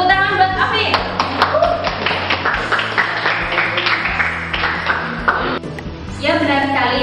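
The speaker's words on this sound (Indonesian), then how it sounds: "Tepuk tangan buat Afin." Students in a classroom clap together for a classmate, brisk scattered claps with a sharp tapping quality, close by, mixed with talk and short bursts of voices.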